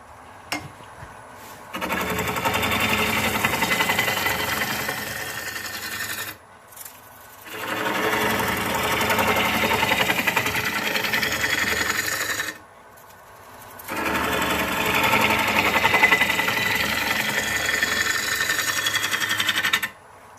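A metal rod turning on a lathe, cutting in three long sustained passes of steady, gritty machining noise separated by short pauses, loud and close with no talking.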